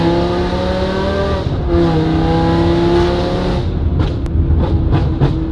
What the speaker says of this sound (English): Tune sounds good, exhaust sounds good, headers, everything.